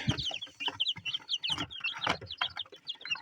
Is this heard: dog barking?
no